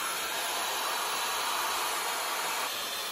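Dyson Supersonic hair dryer running on its lowest heat and speed setting, a steady airy hiss and whir sustained evenly throughout, close to the ear with no talking.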